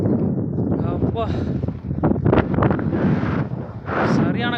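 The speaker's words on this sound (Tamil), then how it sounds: "சரியான காற்று அடிக்குது" Strong wind blowing outdoors near a waterfall viewpoint with a fence, buffeting the microphone in loud continuous gusts while someone talks over it.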